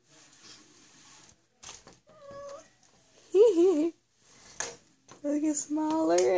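A pet cat meows several times, its cries rising and wavering, loud and close, with a person talking in between.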